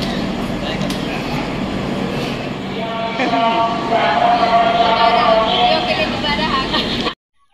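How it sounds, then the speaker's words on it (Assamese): A train rumbles into a crowded station with a rising roar and squealing brakes, surrounded by a busy crowd of voices before it cuts off abruptly. "এইপিনে আমাৰ ট্ৰেইনখন আহি গলেহি"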